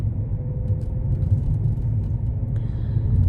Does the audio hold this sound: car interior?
yes